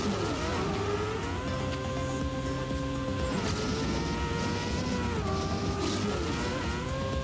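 Continuous engine whine of a car racing in the video game Trackmania, steady and loud with pitch rising and dipping through gear-like shifts, no talking.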